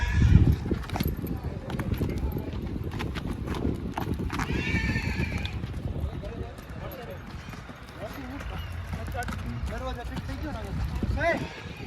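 Hooves clip-clop steadily on a hard surface while a mare gives a short whinny partway through; people talk over the sounds.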